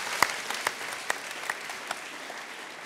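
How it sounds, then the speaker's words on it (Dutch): A small audience claps after a physics lecture on Majorana particles, with sparse, scattered hand claps fairly close by, fading quickly instead of building into a sustained ovation. "Applaus."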